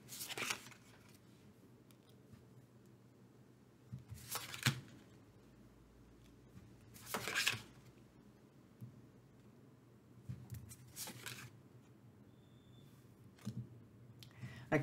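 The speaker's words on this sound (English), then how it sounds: "I'll shuffle again for the bison and camel advice to you." Tarot cards being shuffled by hand in a quiet room, in short, soft riffling bursts repeated about every three seconds with near-silent pauses between them.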